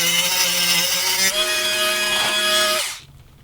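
A power tool cuts through a power steering hose line on a Lexus LX470 or 100 Series Land Cruiser, a loud, close, high-pitched whine that shifts pitch midway and then quickly winds down to quiet near the end.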